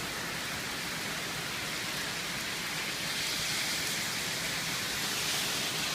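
Steady heavy rain pours down in a dense, even hiss, with no voices or other sounds above it.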